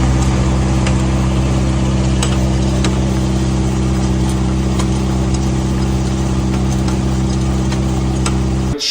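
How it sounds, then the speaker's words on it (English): A steady low mechanical drone with a faint rhythmic ticking and rumbling, continuous and close, from a very old, worn wheel bearing on a cross kart after high-speed driving. "That pretty spirited driving run blew up what's left of this really old wheel bearing"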